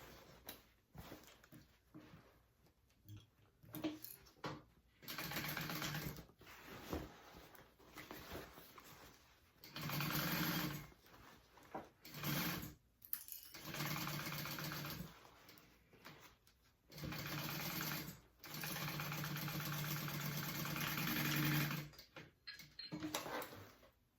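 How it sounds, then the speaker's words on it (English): Sewing machine stitching a tote bag seam at a 3/8 inch allowance, running in several bursts of steady whirring separated by pauses, close and clear with no talk. "we are sewing that at a 3/8 inch seam allowance as well."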